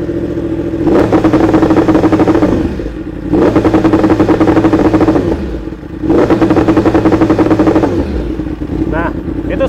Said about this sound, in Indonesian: itu suara satu yang MotoGP